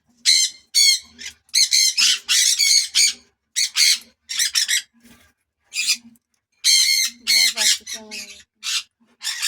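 Tame pet birds squawk in loud, harsh bursts, close by and repeated in quick succession with brief gaps between calls.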